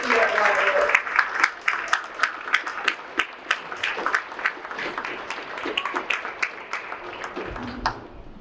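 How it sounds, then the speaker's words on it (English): A banquet crowd at a varsity club sports event applauds a student finishing her first year at Waterloo, dense clapping with sharp individual claps standing out, fairly close and loud, tapering off near the end. "Can we please give her a round of applause as she's finishing up her first year at Waterloo?"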